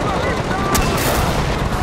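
Rapid gunfire rattles in the Far Cry 4 video game, a dense burst of loud, close shots with one sharp crack standing out over a rumbling game backdrop.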